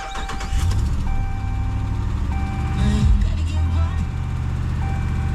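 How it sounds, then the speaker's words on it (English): A Gen4 Ram parts truck with a Hemi engine idles high with an exhaust leak, giving a steady, loud, close engine drone with faint ticking and a bright whine above it. "you can hear a little bit of an exhaust leak. So there's your exhaust tick."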